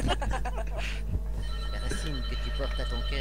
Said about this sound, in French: Quelqu'un sonne. C'était quoi ce vieux téléphone?